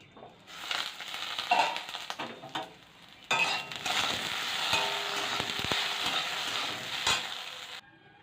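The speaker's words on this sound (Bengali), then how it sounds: "কড়াইয়ের মধ্যে দিয়ে দিচ্ছি জিরে আর শুকনো লঙ্কা" Cumin seeds and dried chillies sizzling in hot oil in a wok, starting with crackling and spitting bursts, then settling into a steady, loud, close frying hiss with occasional scrapes.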